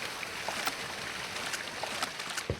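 A waterfall rushes in a jungle scene of an Unreal Engine and Wwise video game demo, a steady, fairly loud broadband wash of water with small splashes, heard alone and close in front.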